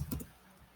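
A few quick keystrokes on a computer keyboard, two or three soft clicks close by in a quiet room, then fading to silence.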